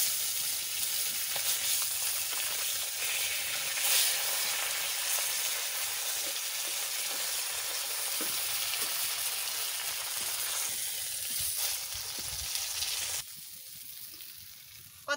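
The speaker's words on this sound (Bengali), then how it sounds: "বড় বড় পার্শে মাছ সব ভাজা করে নিচ্ছি" Large parshe fish frying in hot oil give a steady, dense sizzle that runs unbroken and fairly close, easing slightly near the end, with no voices over it.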